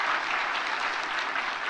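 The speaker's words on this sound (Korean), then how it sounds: "우리 박수로 환영하겠습니다" A church congregation applauds to welcome a family during a Sunday service, a brief burst of even, dense clapping from a crowd heard slightly distant.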